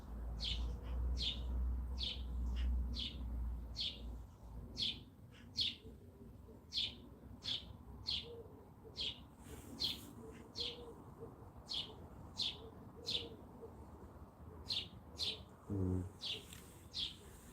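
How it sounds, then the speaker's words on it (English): Outdoors at a camping spot, a bird repeats short high chirps in a steady rhythm for the whole stretch, fairly clear against a low background hum and faint scattered calls. "Just the sound of birds"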